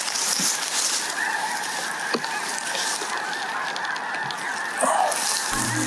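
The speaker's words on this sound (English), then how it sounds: "boy, the geese are lousy today." A flock of geese honking steadily at a distance over an open field during a hunting outing, overlapping calls continuing throughout with no talking.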